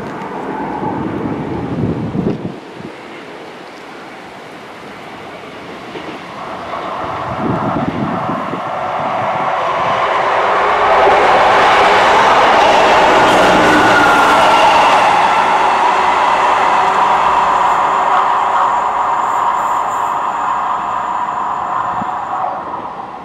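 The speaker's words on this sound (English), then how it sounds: "there's a train just about to come in now" A train rumbles in and roars through a station without stopping, the heavy noise swelling steadily and holding loud for a long stretch, with wind buffeting the microphone.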